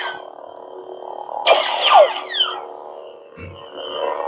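A custom Proffie Darth Maul lightsaber from The Phantom Menace ignites with a loud bright burst of sweeping tones, then settles into a steady electric hum, with a low thump near the end.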